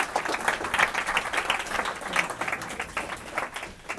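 Church congregation applauding a preacher after a sermon, a steady patter of many hands clapping at moderate volume for the full stretch with no talk over it.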